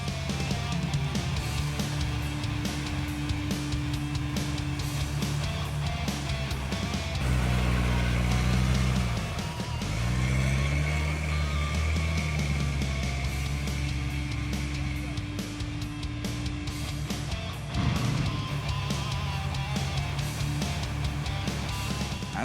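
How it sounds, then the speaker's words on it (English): An ATV fitted with Suzuki Jimny axles churns through mud, its engine a steady loud drone with revving that rises and dips throughout, and splashing and strain in the middle stretch. "it's a snap for the machine to cut his way at this section of our route."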